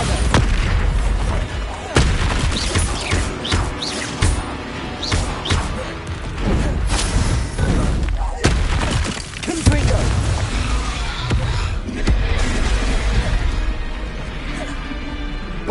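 Bombarda spell blasts in Hogwarts Legacy: dense, repeated booming explosions and crashes that run continuously alongside other spell effects, loud and close, under a voice calling out spell names.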